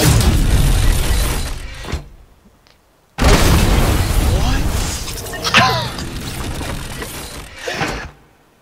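Heavy booming blasts from a game cannon, two loud bursts with a brief silent gap between them, rumbling and fading away.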